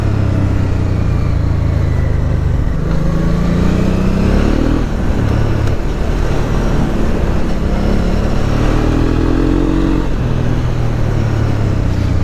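A Honda Transalp 650 motorcycle ridden along a dirt trail, its engine droning steadily throughout with two rising revs as the throttle opens, loud and close with no talking.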